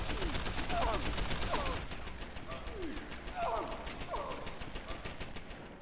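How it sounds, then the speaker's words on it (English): Rapid gunfire from an automated turret and a combat rifle rattles in bursts through a loud Deus Ex: Human Revolution firefight, dense and continuous against game noise, with a voice speaking over it. "Turret plus combat rifle plus EMP mines."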